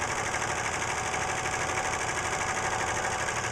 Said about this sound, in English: Now with the serger, all you have to do is lift your foot, the presser foot, just a little bit, get the fabric under there, and push the pedal and go.